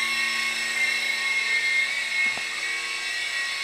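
A World Tech Toys Ghostbusters toy helicopter flies with a steady high-pitched electric motor whine and rotor buzz, continuous and fairly close throughout.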